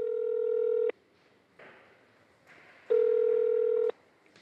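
A telephone call is being placed: two long, steady ringback tones sound on the line, separated by a pause with faint background noise.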